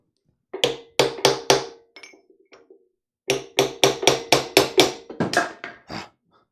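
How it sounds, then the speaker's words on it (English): A 5-pound hammer strikes a concrete chisel against a Jeep 4.0 engine in quick, ringing blows, a burst of four, a short pause with light taps, then a longer run of about nine hits. "5-pound hammer, concrete chisel, bad idea."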